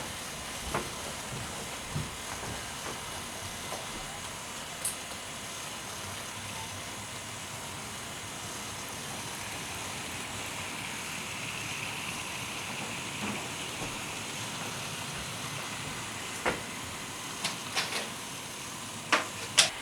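A model Robinson O4 freight locomotive, number 3547, coupled to its train, runs with a steady mechanical whir and scattered small clicks and ticks along the track.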